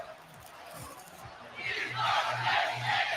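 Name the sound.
crowd chanting We Are Penn State in EA Sports College Football video game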